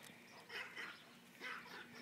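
A loose dog barks twice outdoors, two faint bursts with a short pause between them.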